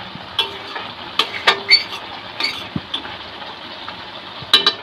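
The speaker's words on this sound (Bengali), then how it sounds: "এবার ভালোভাবে একটুখানি নাড়িয়ে চাড়িয়ে নেওয়া হলো" Dried fish curry with yardlong beans stirred in a pot: a spoon clinks and scrapes against the metal in irregular bursts, with a few sharper knocks, over a faint, steady background hum.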